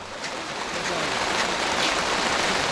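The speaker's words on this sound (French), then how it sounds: "Il pleut à torrent sur Ifatasan." Torrential rain pours down at Ifatasan in the Tassili de l'Immidir, Algeria, making a dense, steady roar of hissing water that fills the whole stretch without pause.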